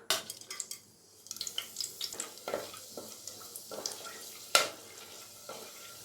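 Spices and black pepper tempering in hot oil in a cooker, crackling and spluttering in quick irregular pops alongside a few utensil clinks, fairly quiet overall.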